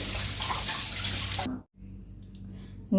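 Eggplants washed by hand under a running kitchen tap. Water splashes steadily for about a second and a half, then the tap cuts off, leaving quiet handling noises.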